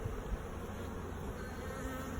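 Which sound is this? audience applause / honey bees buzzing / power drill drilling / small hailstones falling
honey bees buzzing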